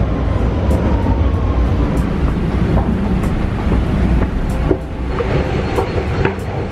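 A Vienna metro train carries passengers with a steady, loud rumble of wheels on rails and air noise, broken by occasional clacks and squeaks. No one speaks.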